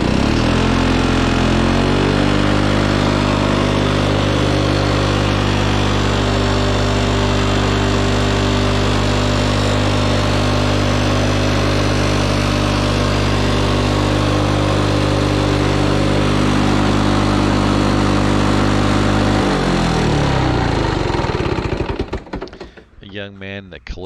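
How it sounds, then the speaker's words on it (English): Older Lawn-Boy lawn mower with a freshly cleaned fuel system, running loud and close with a steady buzzing drone for about twenty seconds before it cuts off and sputters down. "Here's another older LawnBoy."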